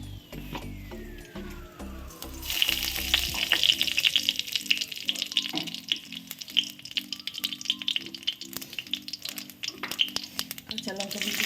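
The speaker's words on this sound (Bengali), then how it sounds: "একটু কালো জিরে ফোড়ন দেব।" Black cumin seeds tempering in hot oil in a home Bengali kitchen, where fritters and radish are being cooked: a busy crackle and sizzle with scattered sharp pops and clinks, steady and close throughout, with a little background noise.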